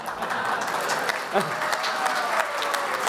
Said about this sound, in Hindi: एक बार जोरदार ताली इसके लिए